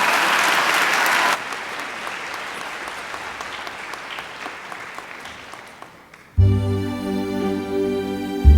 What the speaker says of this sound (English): I think Stephanie deserves another great round of applause.